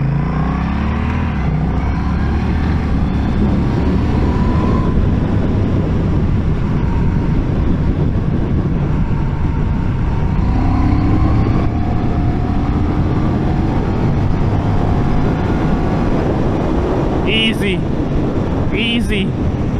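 A Honda CMX1100 Rebel motorcycle ridden in fourth gear, a loud continuous engine drone buried under heavy wind rush, close and steady, with a couple of short high chirps near the end.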